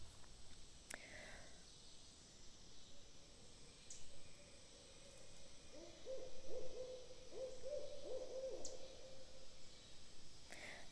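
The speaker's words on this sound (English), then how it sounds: "Yeah, there's 4 owls." Several owls hoot in broad daylight from moderate distance, a run of soft repeated tonal hoots building in the second half over a quiet outdoor background with faint ambient noise.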